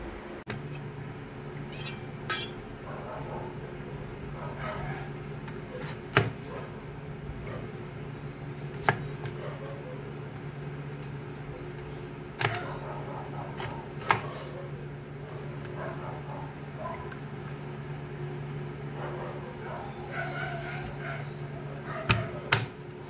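A knife slices bitter gourd (ampalaya) on a board in a home kitchen, producing sparse sharp taps at irregular intervals over a steady background hum, with a voice talking at times.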